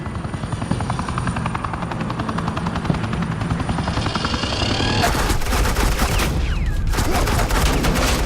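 Rapid suppressing gunfire rattles in a Batman video game scene over a loud, steady helicopter drone, the bursts growing denser and harsher in the second half, close and dominant with no clear talking.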